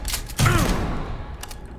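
Gunfire in the space game Starfield lands as a heavy burst of shots with a booming thud and a short ringing tail, followed by fainter distant pops.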